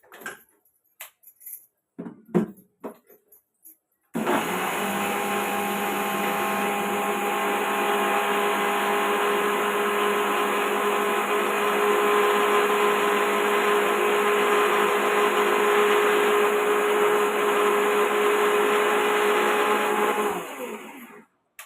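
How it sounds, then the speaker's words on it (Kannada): Kitchen mixer grinder blending coconut, sesame and water for a sweet pumpkin payasam, a loud steady whirring drone that starts abruptly after a few faint clicks and handling knocks, runs unbroken for about sixteen seconds, then cuts off. "ಇದು ಮಿಕ್ಸಿ ಮಾಡ್ಕೊಂಡು ಬರೋಣ"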